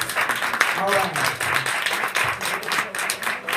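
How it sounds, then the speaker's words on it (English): Audience applause for graduates in a room, brisk overlapping clapping from a modest crowd, fairly close and lively, pulsing in uneven waves for a few seconds. "Let's give them a round of applause."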